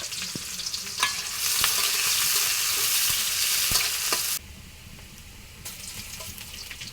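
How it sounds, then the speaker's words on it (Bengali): Chopped onions fry in oil with a few cardamom pods for a village-style beef and ash gourd curry, a loud close sizzle with scraping stirs that drops to a quieter fry midway. "তারপর দিলাম কয়েকটি এলাচ, এবার দিলাম পেঁয়াজ কুচি গুলো হালকা ভেজে"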